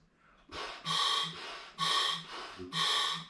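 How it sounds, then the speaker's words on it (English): Breaths drawn through a scuba regulator's second stage during assembly testing, three strong hissing inhalations alternating with softer exhalations, close and steady with no talking. "So we breathe only and check if it's breathing easy."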